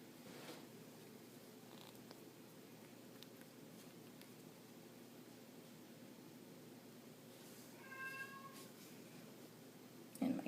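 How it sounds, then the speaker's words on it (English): A pet cat meows softly, one brief meow standing out late against a quiet background hiss, with faint purring-like low murmur throughout. "And my kitty wants to say hi."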